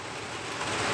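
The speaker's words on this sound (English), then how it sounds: "but we're actually getting rain right now." Rain falling outside at about freezing, turning partly to ice, a soft, even hiss of drops that rises slightly toward the end, with an indoor fan humming underneath.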